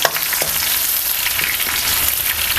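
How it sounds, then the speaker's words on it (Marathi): Garlic and cumin fry in hot oil for a spicy village-style ridge gourd curry, giving a loud, steady, close-up sizzle and crackle throughout with no voices. "ह्यामध्ये लसूण घालते लसूण आहे ना चांगलंसं आपल्याला परतून घ्यायचं आहे"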